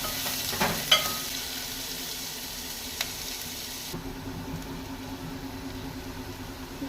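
Onions sauté in a pan toward browning, a faint, steady sizzle with a couple of soft utensil taps early on, quiet and close with no voices.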